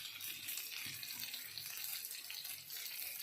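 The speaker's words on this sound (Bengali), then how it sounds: "এবার একটু বাটার দিয়ে, এই যে একটু বাটার দিয়েছি আর একটু তেল দিয়েছি। এবারে এটা ভাজবো" Paneer frying in a pan with butter and a little oil, giving a steady, close hiss and crackle that runs unbroken throughout with no voices.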